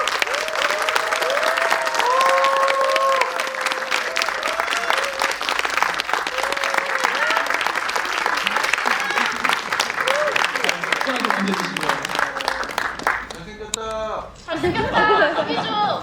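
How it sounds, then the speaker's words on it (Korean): A large crowd at a Korean drama special screening applauds continuously as the director and lead actors enter, with cheers and chatter mixed in and voices calling out over the clapping. "큰 박수 부탁드릴게요."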